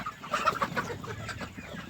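Four-month-old free-range country chickens, roosters and hens, cluck close by, a busy overlapping run of short calls from several birds, steady throughout with no talking.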